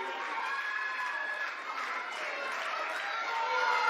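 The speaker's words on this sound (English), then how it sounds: "This crowd coming alive." A wrestling crowd cheers and roars continuously at a live match, a steady, somewhat distant wash of voices that swells slightly toward the end.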